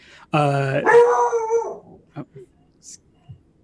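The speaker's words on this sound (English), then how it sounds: "There's a dog outside." Dog outdoors letting out a loud drawn-out howl, then a few short, fainter yips and barks spaced apart, with no voices.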